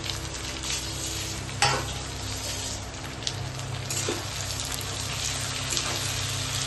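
Crushed garlic and chopped tomato frying with chicken stomach in a pan, giving a continuous close sizzle with occasional stirring scrapes and clinks, and no talking.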